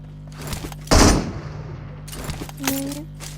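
Gunfire in PUBG Mobile, a loud close blast followed by scattered shots and rattling bursts, with a short rising electronic tone near the end.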